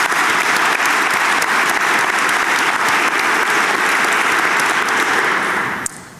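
A large convocation crowd at a college reunion ceremony gives a sustained, loud round of applause, thick and even throughout before tapering slightly at the very end.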